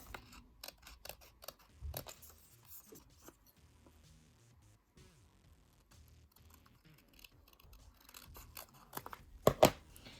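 Scissors snip through ribbon while a hair bow is being made, a scattering of soft, close clicks and cuts with a sharper burst of snipping near the end, no talking.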